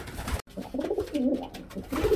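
Pigeons coo in a breeding loft, soft, close, throaty rolling calls that rise and fall over about two seconds, with faint scuffling around them and one very brief break near the start.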